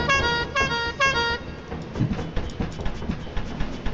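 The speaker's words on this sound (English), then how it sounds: "Got my trusty clown horn" A clown horn honks three times in quick succession, loud, clear and close, then gives way to rough, clattering background noise.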